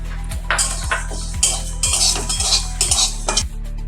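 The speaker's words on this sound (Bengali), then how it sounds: "এই সোনামুগ ডালটা আমি একটু ভেজে নেব। কড়াইতে দিয়ে দিচ্ছি।" Sona moong dal being dry-roasted in a wok, with repeated scraping and stirring clinks of a utensil against the pan over a steady low hum, close and moderately loud.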